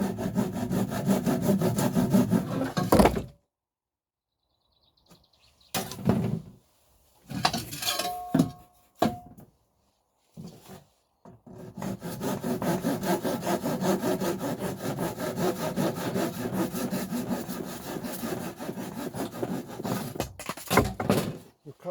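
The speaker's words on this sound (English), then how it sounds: "we can just use a saw, and it will just cut even the bluntest of saws" A hand saw cuts through blue MDPE water pipe in rhythmic back-and-forth strokes. Sawing comes in bursts broken by pauses and short scrapes, then runs as a long continuous stretch close up, with no talk.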